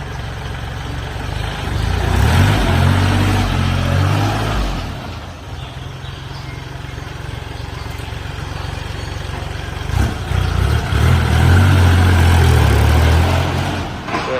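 A Kubota L3408 tractor engine drones loudly and close in high gear, its low rumble rising and falling as it drives along steadily, with no voices.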